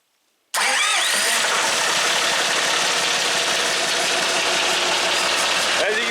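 A 1994 John Deere 5400 tractor engine, started by jumping the starter terminals, catches almost at once after a brief silence and settles into a loud, steady diesel idle that runs close by until it cuts off at the end.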